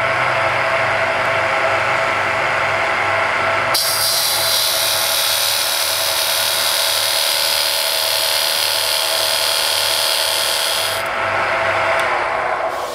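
A wood lathe spins a piece of pine while a cutting tool shapes a bead. A steady motor hum runs underneath, and a loud hissing, scraping cut starts a few seconds in and runs until near the end.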